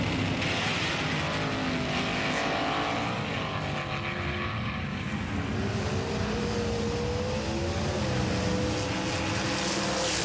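A small Holden Commodore race car, the 99 Holden, races around a track, its engine droning loud and continuous with pitch rising and falling through gear changes and corners.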